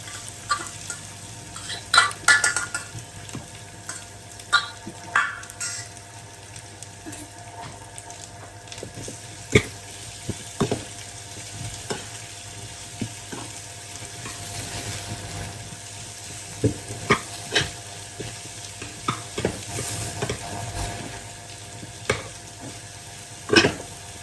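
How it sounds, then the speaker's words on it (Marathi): Bamboo shoot vegetable fries in a pan with a continuous sizzle. A spoon stirs it, making frequent sharp scrapes and knocks against the metal that stand out above the hiss. No one speaks. "आणि बांबूची भाजी टाकायची."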